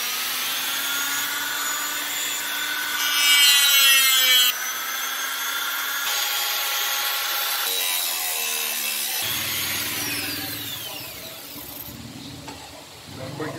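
Hand saw cutting slats into a small wooden keychain blank held in clamps, a steady rasping back-and-forth of moderate loudness that runs nearly the whole time, with brief shifts in pitch as the cut deepens.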